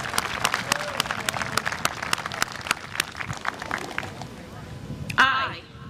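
A graduation ceremony audience at a high school gives scattered, steady clapping that thins out over several seconds before a voice speaks near the end.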